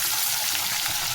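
Two large onions frying in a pan for a gongura dried prawn curry, a dense, loud, unbroken sizzle heard up close.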